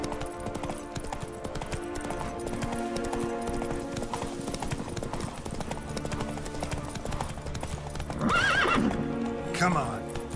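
A horse gallops in a race in The Witcher 3, with a steady rapid clip-clop of hooves throughout and a loud whinny near the end, voices talking over it.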